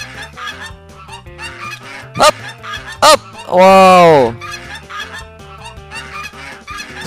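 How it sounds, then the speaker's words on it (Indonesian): Cartoon geese honk loudly in a chase sequence of the Upin Ipin mobile game, with two short honks followed by a longer drawn-out honk over bouncy game music, and a person briefly speaking. "Dikejar angsa, guys."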